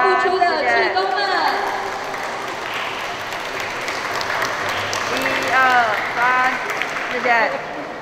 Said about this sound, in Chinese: 让我们以热烈的掌声，感谢这群默默付出的志工们。